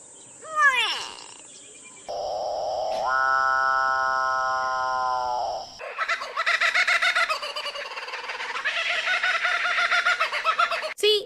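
Chickens and other birds call in a loud, close series: a sharp squawk, a long nasal honking cry, then rapid rhythmic clucking and cackling that runs on to the end, with no voices.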